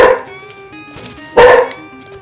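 A puppy in a video game barks and yips, two loud bursts against a quiet backdrop of soft, steady game music tones.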